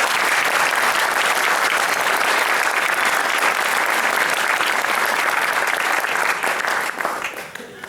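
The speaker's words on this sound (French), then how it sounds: "je vous demande de vous faire un tonnerre d'applaudissements pour Florian" Loud, thunderous applause from a comedy audience for a 13-year-old performer, a thick continuous roar of clapping that holds steady before easing off in the last second.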